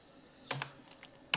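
Someone types a terminal command on a computer keyboard, a few quiet, close key clicks spaced out, with one sharper press at the end like hitting Enter.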